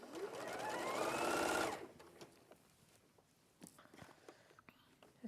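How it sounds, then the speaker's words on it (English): A sewing machine stitches around the outer edge of fabric in one loud, steady run lasting under two seconds, then stops, leaving a few faint clicks and handling taps. "I'm going to sew again around the outer edge."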